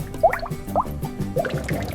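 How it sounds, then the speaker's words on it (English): Jack Daniel's whiskey drips through ten feet of maple charcoal in the Lincoln County process at a distillery, a steady wet trickle with scattered distinct drops over a constant liquid background, close and moderately loud. "The whiskey drips through 10 feet of maple charcoal."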